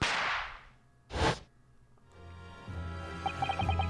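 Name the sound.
Venus special firecracker going off, from the video game The Great Ace Attorney 2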